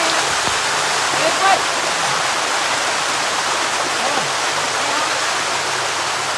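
A monsoon stream rushes over rocks on Girnar hill near Junagadh, a loud, steady, broadband roar of flowing water filling the whole stretch without pause.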